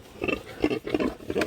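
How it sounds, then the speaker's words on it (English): Pigs being loaded into a livestock trailer on a farm grunt and oink in several short bursts, close and moderately loud, with no talking. "So we've had some folks in the past asking about loading up pigs"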